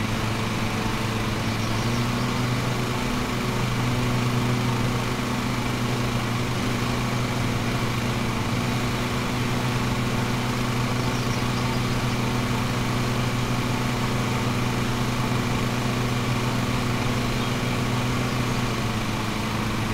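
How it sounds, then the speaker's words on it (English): Steady engine drone of a lawn mower in the Lawn Mowing Simulator video game, a continuous low idling hum with constant loudness while mowing grass, no talk over it. "we're just going around and we're going and mowing this grass."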